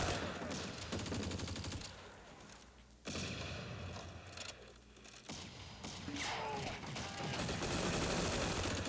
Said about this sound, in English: We cannot compete against a gun like that.